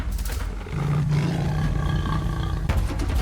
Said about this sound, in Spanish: El rugido desgarró el aire.